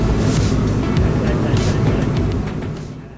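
A QantasLink airliner taxis to the terminal after landing, a loud, steady broadband rumble heard from inside the cabin that eases slightly toward the end.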